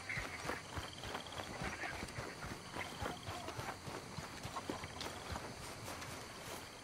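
A horse's hooves clip-clop at a steady walking rhythm in a video game, fairly faint and even throughout over a soft ambient background.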